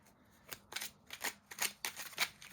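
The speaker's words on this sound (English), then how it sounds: "Super easy to shuffle" Small oracle cards are shuffled by hand in a quiet room, giving a series of soft, crisp riffling bursts in an uneven rhythm.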